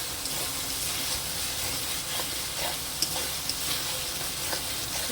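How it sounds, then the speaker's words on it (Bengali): Spices with ground cumin fry in oil in a pan for a soybean curry, making a soft, continuous sizzle with a few light taps of a spoon. "দেখুন এভাবে কষে নিচ্ছি।"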